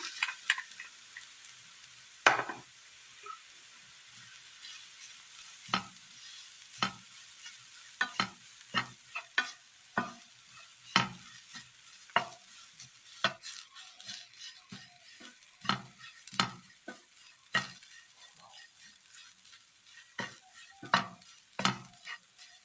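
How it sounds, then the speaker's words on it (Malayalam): A crushed coconut mixture fries with onions in a pan while being stirred, with a soft steady sizzle under repeated sharp scraping strokes of the spoon, close and without talk. "ഇനി ഇതിലേക്ക് നമ്മൾ ചതച്ചെടുത്ത തേങ്ങാക്കൂട്ട് ഇട്ട് കൊടുക്കാം."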